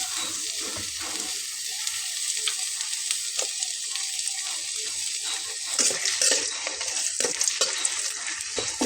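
Garlic and onion sizzle steadily in about half a cup of hot oil for a Bengali curry, a dense continuous hiss with occasional stirring scrapes rising slightly toward the end.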